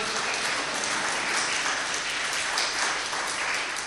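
Loud, continuous applause fills the hall from a large audience at a spiritual discourse event, an even, dense patter of many hands clapping with no voice over it.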